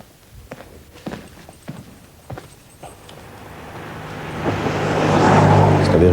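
A car approaches, opening with scattered footsteps and small knocks, then a rising engine and road rumble that swells steadily louder as the vehicle draws near.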